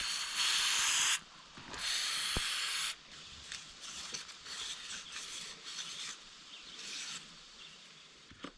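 Brake cleaner sprayed from a can onto a Case 580CK backhoe engine liner: two loud hissing bursts up close, followed by quieter scraping and shorter spray hisses.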